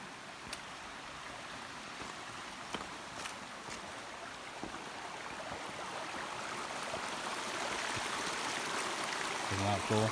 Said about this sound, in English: And the little waterfall.